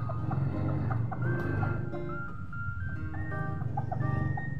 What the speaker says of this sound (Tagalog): ito ay isang Malaysian Serama na manok